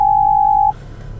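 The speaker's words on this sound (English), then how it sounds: "I'm sorry, I got a phone call." A phone gives an incoming-call alert as a single steady electronic beep lasting under a second, loud and close, then cuts off to quiet room tone.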